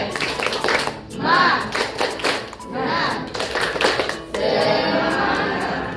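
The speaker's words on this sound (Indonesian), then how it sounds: "Coba tepuk semangat dulu." Schoolchildren in a classroom do a rhythmic spirit clap, bursts of patterned hand claps alternating with chanted voices, loud and close, led by a teacher during a lesson.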